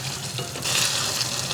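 Chicken curry with coconut milk sizzles and bubbles in a pot on the stove, a steady close frying hiss with soft popping that swells slightly partway through, no voices.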